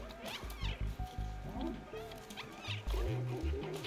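Repeated cat meows from the video game Stray, several short mews mixed with game sounds and a voice talking over them at moderate level.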